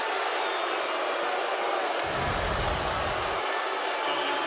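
A basketball crowd roars in Coleman Coliseum after an Alabama dunk, a dense, steady wall of cheering with a deeper swell in the middle.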